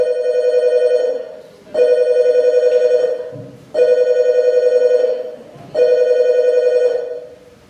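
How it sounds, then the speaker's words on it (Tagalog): A telephone rings in a home living room, loud and close, with four long rings separated by short pauses. "kalit lang mitingog ang ilahang telepono"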